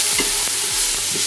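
Chopped white onions and minced garlic sizzle in oil inside an Instant Pot, a steady broadband fry with a few scraping stirs of a utensil, close and continuous with no talking.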